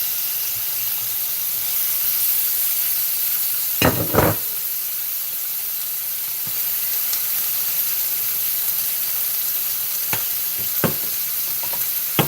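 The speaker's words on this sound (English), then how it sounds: "See how this side just sizzle up like that? I mean, it just sizzles." Steady, close sizzling of squash frying in a hot pan, a continuous bright hiss broken by a few brief pops and clicks.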